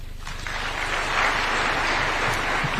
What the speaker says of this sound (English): Another round of applause for such wonderful testimonials